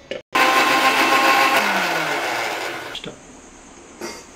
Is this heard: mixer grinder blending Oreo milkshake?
yes